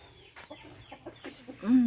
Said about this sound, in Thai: เพิ่นเลี้ยงไก่จ้ะ ไก่ตี